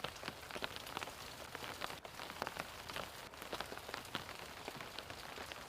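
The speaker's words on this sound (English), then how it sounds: "From the rain that is falling now on the tent" Steady rain drums on a tent at a wet outdoor site in Baltimore, a dense, continuous patter of close drops with sharper individual taps scattered through, no voices.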